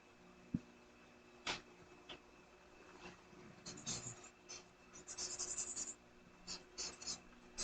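A nearly dry pen writes on paper in a lecture setting, producing bursts of scratchy scribbling strokes near the microphone, separated by a few taps and pauses, over a quiet background hum.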